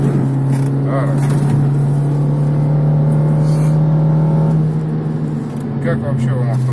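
A Lada Vesta Sport race car on the Kazan Ring track gives a loud, steady engine drone with a strong low hum and tyre rumble throughout. A voice speaks briefly over it.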